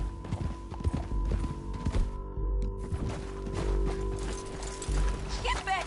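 Horse hooves clopping in Red Dead Redemption 2, a steady rhythmic plod under a low game ambience with faint creaking, fairly close and moderately quiet.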